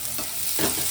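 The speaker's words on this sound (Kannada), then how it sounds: "ಈರುಳ್ಳಿ ಹಾಕ್ತಾ ಇದ್ದೀನಿ ಒಗ್ಗರಣೆಗೆ." Onions hiss and sizzle in hot oil for a tempering, with stirring scrapes through a steady frying crackle, close and moderately loud, with no voices.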